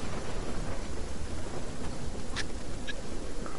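The storm in the Fortnite video game gives off a steady, loud wash of rain-like noise with a low thunder-like rumble underneath. It runs continuously with no talking.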